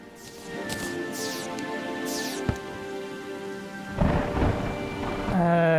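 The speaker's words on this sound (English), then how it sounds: "It won't let us stop the rain." Rain and rolling thunder in the game Terraria Calamity, with a steady patter of rainfall under low rumbles, a sharp crack midway and a heavier thunder burst near the end.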